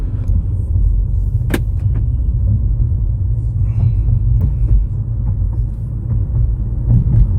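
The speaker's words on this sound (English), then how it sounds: "You're gonna hear the road, obviously, like every other car." Steady low rumble of tire and road noise fills the cabin of a 2014 Nissan Maxima SV driving a back road, loud and constant with a few small clicks and knocks over it.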